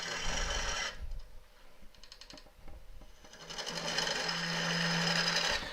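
An elm burr spins on a wood lathe as a tool cuts away its central mounting: a close, buzzing cut, a quieter gap of lighter scraping, then a longer steady cutting run.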